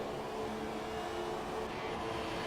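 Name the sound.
Formula 1 race car engines in video game F1 2017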